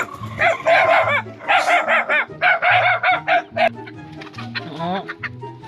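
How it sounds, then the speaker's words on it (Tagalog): Several chickens cluck repeatedly in loud, rhythmic bursts close by, with a dog also barking intermittently and some background speech. "Yung mga manok niya."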